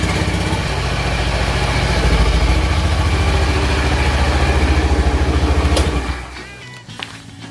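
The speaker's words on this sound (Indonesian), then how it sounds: "kita nyalakan mesinnya dan kita dengarkan mesinnya." A fuel-injected used motorcycle engine runs at a steady, loud idle close by for about six seconds, then cuts off abruptly, leaving a quiet tail with a faint click.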